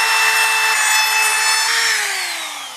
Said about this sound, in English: So we'll do that real quick with our trim router